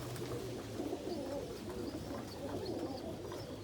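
Pigeons coo steadily in a loft housing blue bar and ballhead birds, soft overlapping low coos with occasional faint chirps, close and continuous.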